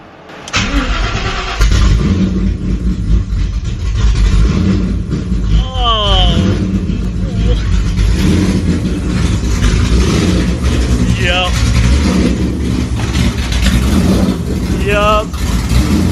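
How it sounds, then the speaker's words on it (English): A Shelby GT500 with open headers and Pypes exhaust cutouts cold-starts with a sudden loud crack, then settles into a loud, rough, rumbling idle for the rest of the clip, heard close, with brief voices and a few whistle-like chirps over the engine. "First reaction of a cold start. Open headers."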